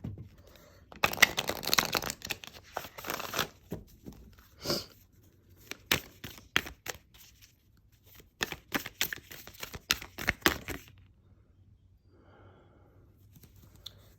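Tarot cards riffle and slap together in bursts of quick shuffling, pausing between rounds, close and fairly quiet.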